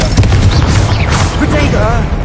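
A Confringo fire-blast spell goes off in Hogwarts Legacy with loud, booming explosive bursts, while a voice is heard over the blasts.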